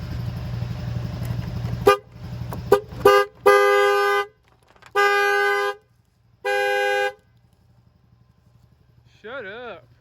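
Car alarm on a Honda Pilot with a jump box attached, sounding loud, close horn blasts: a few short honks, then three long sustained blares with gaps, and a warbling siren tone at the end, with talk around it.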